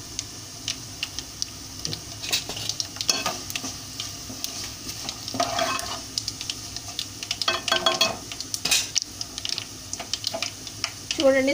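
Spice mixture for homemade tomato pickle frying and being stirred in a pan, with a steady sizzle under repeated scraping and stirring strokes, close and moderately loud, with a few soft clicks.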